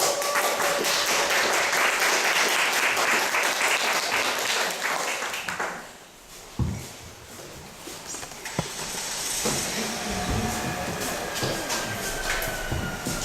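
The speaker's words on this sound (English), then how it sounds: "Please welcome her with a big round of applause." An audience at a talk event welcomes a speaker with dense, sustained applause that fades after about six seconds, followed by scattered room noise and a few final claps.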